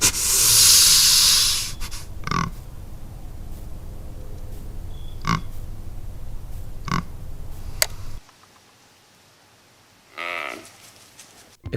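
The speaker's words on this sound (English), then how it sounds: "But deer actually can bark, and it sounds like this." A white-tailed deer gives several short, sharp barks spaced a few seconds apart against outdoor background noise, followed by a quieter stretch and one more bark near the end.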